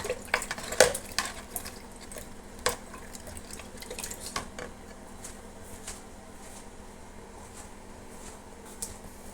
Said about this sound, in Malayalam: എല്ലാം കൂടി ചേർത്തൊന്ന് മിക്സാക്കി കൊടുക്കുന്നതാണ്.